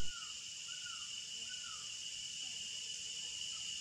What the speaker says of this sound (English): a constant chorus of cicadas loudly penetrates the woods